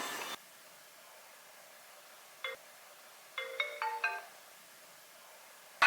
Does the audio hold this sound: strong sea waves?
no